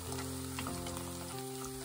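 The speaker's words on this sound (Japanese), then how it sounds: "納豆に 油つけると炒めると美味しいですよ。" Natto sizzles and fries steadily in a little oil in a pan, a dense close crackle running continuously for the whole moment with no voices over it.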